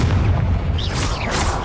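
A Confringo blasting spell bursts in Hogwarts Legacy, a short booming impact with a crackling whoosh that trails off quickly, loud and alone.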